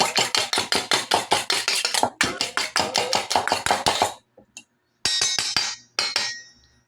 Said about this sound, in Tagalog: sa isang mixing bowl, bali magbabati lang ako dito ng isang pirasong itlog